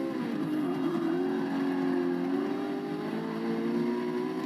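A race car engine in Forza Motorsport 6 at Spa-Francorchamps holds a steady, loud, droning note, shifting slightly in pitch with no talking.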